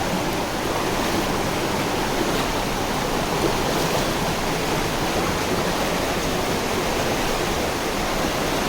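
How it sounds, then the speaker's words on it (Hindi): Fast-flowing water inside a cave near Dehradun: a constant, loud rushing roar that stays even and unbroken throughout, with no voices over it. "पानी का बहाव थोड़ा तेज है"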